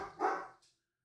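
One dog barks in the background: a short, loud bark that fades, then a faint second yelp, with silence after.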